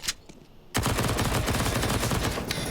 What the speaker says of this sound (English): SMG shots find no damage.